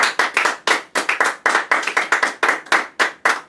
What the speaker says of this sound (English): That's a round of applause.